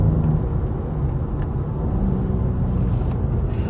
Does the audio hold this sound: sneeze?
no